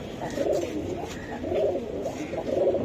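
A competition-line racing pigeon for sale coos steadily and close by, its soft throaty calls repeating about once a second with no talk over them.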